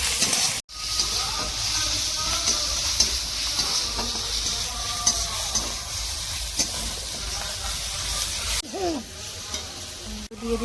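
Ginger garlic paste fries in a pan with a steady, close sizzling hiss as it is stirred, with soft scraping sounds and two brief breaks in the sizzle.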